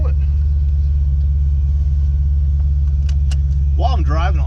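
A 2010 Camaro SS fitted with a Kenne Belle supercharger, driving down the road with a loud, steady low engine drone throughout and a voice speaking briefly near the end.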